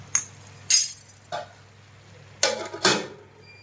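A metal lid meets a pot of jackfruit aviyal with a few sharp clinks and clatters, spaced apart, close and clear against a quiet kitchen.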